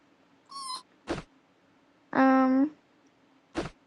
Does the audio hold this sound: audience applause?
no